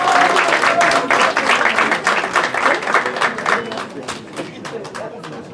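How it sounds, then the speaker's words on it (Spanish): An audience applauds at an award ceremony with dense clapping that gradually thins and fades, and a voice is briefly heard near the start. "¡Un aplauso!"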